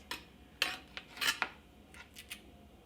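A knife cuts through a farm-fresh tomato in a few distinct crisp slicing strokes, close up and clear, with short pauses between cuts and no voices.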